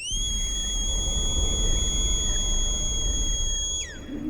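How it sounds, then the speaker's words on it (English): A loud, piercing film sound-effect whistle holds a steady high tone for several seconds, then bends downward and cuts off. "he blows a super whistle, and you can really hear the crisp sound design of the whistle now"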